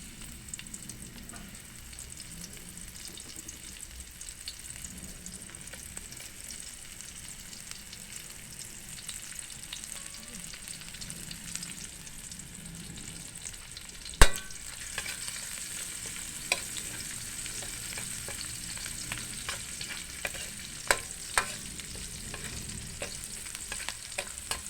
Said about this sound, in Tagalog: Diyan ko na siya igigisa. Sabayan na natin sibuyas bawang.